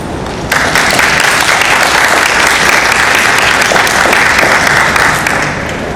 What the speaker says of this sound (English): A warm applause please for Dr. Maria Moya Gertsch, Consul General of Austria